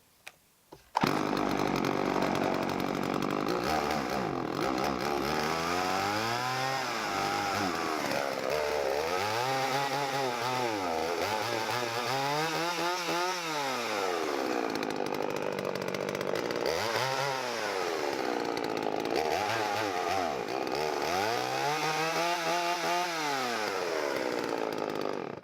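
A Partner P465 chainsaw fires on a cold start and runs loud and continuous, its engine revving up and down repeatedly in rough surges with no talking.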